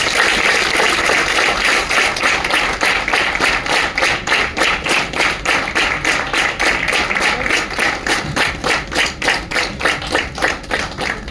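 An audience at a celebration event in Nagpur claps in loud, sustained applause, settling into a rhythmic, synchronized beat that carries on steadily throughout.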